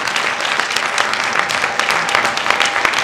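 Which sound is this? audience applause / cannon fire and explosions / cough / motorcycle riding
audience applause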